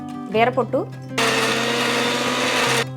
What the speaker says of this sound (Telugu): ముందుగా మనం ఇదంతా కూడా ఒకసారి మిక్సీలో వేసుకోవాలండి